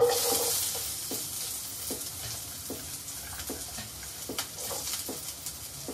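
Onions sizzle and fry in a hot pan for a home-cooked chicken curry, a steady crackling hiss with a few louder stirring clicks spaced through, close and alone without voices.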